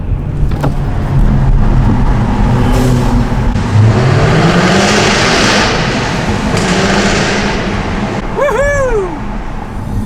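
A loud Jaguar F-Type sports car engine drones and revs continuously, echoing in an enclosed tunnel, with a brief high squeal near the end.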